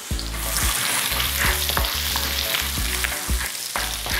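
Garlic hits hot oil in a pan for a loud, steady sizzle and fry, with repeated spoon-scraping knocks about every half second as it's stirred.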